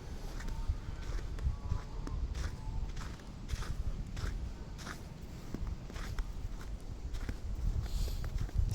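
Footsteps crunch and creak on a snow-covered road on a very cold morning, a steady walking rhythm of soft, close steps with faint ambient noise and no talking.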